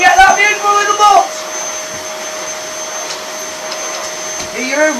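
Vacuum cleaner hoovering with a steady loud whining drone and constant motor tone, with a voice talking briefly over it at the start and end.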